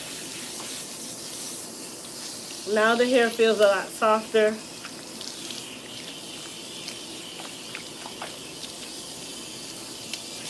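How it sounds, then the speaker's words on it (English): Cool tap water runs steadily while hair is rinsed, making a soft, continuous hiss. A voice speaks briefly over it partway through. "And then we're going to rinse with cool water again."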